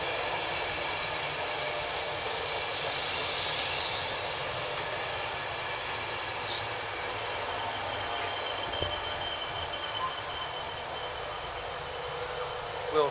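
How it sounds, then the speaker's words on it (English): LNER passenger service from London King's Cross to Edinburgh arriving at Northallerton on the East Coast Main Line, a steady broad rumble and whine of the train rolling in, sustained and moderately near throughout. "now arriving is the 1559 London North Eastern Railways service from London King's Cross to"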